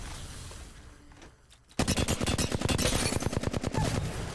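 Automatic weapon fire from Apex Legends on console: after a quiet stretch, a loud, rapid burst of shots rings out alone in a steady rhythm, running as one long string to the end.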